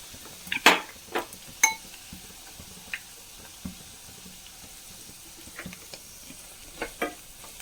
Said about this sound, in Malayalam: നമുക്ക് സോയ അതിലിട്ടിട്ട് ഫ്രൈ ചെയ്തെടുക്കാം